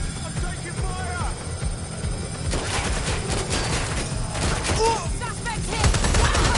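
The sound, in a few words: gunfire in the video game Watch Dogs: Legion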